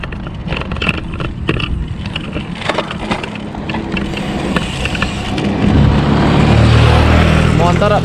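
A motorcycle speeds past on a riverside street in Korea, its engine rising to a loud, close roar in the final seconds after a stretch of clattering street noise and talk.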